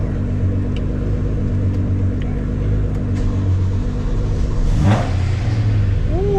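A sports car engine revs hard and accelerates, a loud close rumbling roar that holds steady before a rising pitch sweep near the end.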